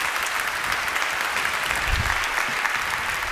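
Audience applause at a classical music show about Gershwin, a steady wash of many hands clapping, moderately loud and even, with no talking over it.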